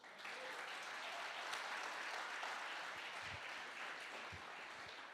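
A church congregation applauds steadily, a dense wash of many hands clapping at even volume from start to finish, with no talk over it.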